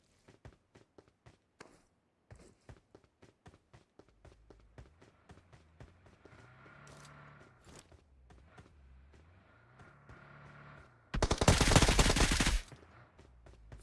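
Gunfire in the battle royale game PUBG Mobile during a competitive scrim: sharp single shots in a rapid sequence, then footsteps and movement, ending in a loud sustained burst near the end.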